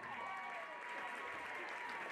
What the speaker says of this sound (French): Et on l'applaudit bien fort.